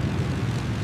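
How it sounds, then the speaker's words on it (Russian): Heavy piston engines of WWII bomber aircraft drone in a dense, continuous low roar, loud and unbroken throughout with no voices. "Шум двигателей был слышен задолго до того, как они появились на радарах."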